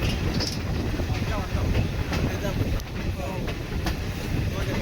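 Inside the Chennai Egmore Express between Kollam and Chennai, a steady rumbling roar of the moving train with rhythmic clicks of wheels over rail joints, loud and continuous.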